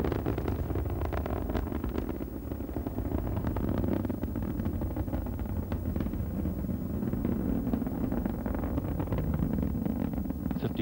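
Space Shuttle Endeavour's three liquid-fuel main engines on the STS-69 launch in 1995, throttling back as it nears the sound barrier: a steady, loud, rumbling roar with a buffeting low-end wash and wind-like noise, no voices.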